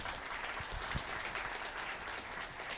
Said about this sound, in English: How about a nice round of applause for Maria Ho?